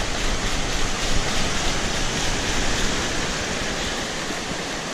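Broadband rushing water from beach surf while a metal detecting find is rinsed, a steady loud wash with no clear breaks or voices.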